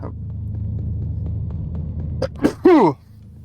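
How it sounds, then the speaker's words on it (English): A single sneeze breaks out with a quick intake and a sharp, loud burst near the end, close up over a low steady hum in a video game's ambience. "Of all the times to get the sneezes."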